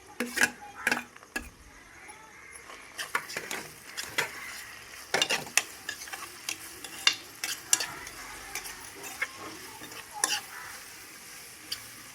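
Prawns frying with onions and green chillies in a pan, with frequent sharp scrapes and knocks of a spoon stirring through a steady close sizzle, and no talking.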